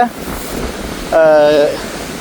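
Storm-driven sea waves surge at Keerimalai on the Jaffna coast, a steady, loud roar of surf and wind with a brief whining tone rising over it midway.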